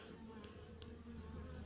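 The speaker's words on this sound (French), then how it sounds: "il y a des abeilles" Bees buzzing around a beehive being moved in Fontainebleau, with a faint continuous hum and a couple of brief close fly-bys over low background noise.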